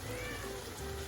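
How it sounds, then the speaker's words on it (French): A pet cat meowing indoors in a kitchen during cooking, a near rising cry over a sizzling pan background. "ça c'est mon chat, il veut aussi du tofu"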